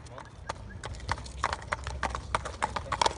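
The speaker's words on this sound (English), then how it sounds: "Baymax and So You Think Colt just coming off the track this morning" Racehorse hooves clip-clop in a steady, fairly close rhythm as horses come off the track after morning work, with a voice talking over the hoofbeats.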